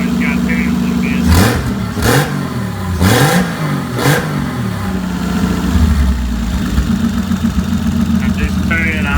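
A car engine fitted with bigger injectors revs in several sharp, loud blips between a steady idle, close by, while someone talks over it.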